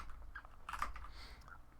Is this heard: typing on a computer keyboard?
yes